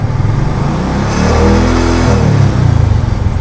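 Honda Tiger motorcycle engine revving up steadily, a loud, close rising engine note held for a few seconds before easing back.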